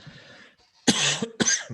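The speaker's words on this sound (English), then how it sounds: "That was not a COVID cough. That was a lack of sleep cough." Two harsh, close coughs in quick succession, the first longer and throatier, after a brief breathy throat sound.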